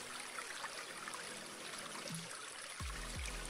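Steady background water runs as a soft, continuous trickling stream, faint and unbroken, with a few low gliding tones near the end and no talk.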